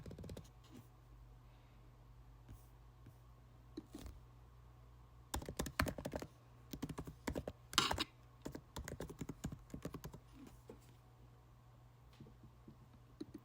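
Someone types on a computer keyboard, entering address details in quiet clustered bursts of clicking keys with short pauses between them, over a faint steady room hum.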